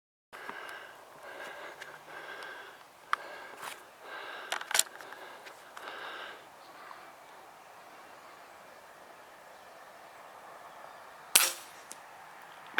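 An airgun fires outdoors during a rabbit hunt, giving a few sharp, isolated cracks spread out over a quiet background with faint rustling between them.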